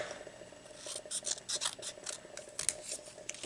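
Scissors snip through a piece of espresso-patterned paper, cutting it in half, in a quick series of close, crisp rasping cuts with no voices.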